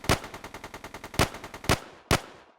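Rapid gunfire in the pirate game Pirate Havoc: a steady automatic rattle of close, sharp shots, broken by several louder single blasts, with no talking.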